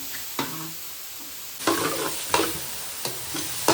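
Vegetables for mushroom fried rice are sautéed in a pan, a low steady sizzle punctuated by several scraping stirs of a spatula that come in short bursts.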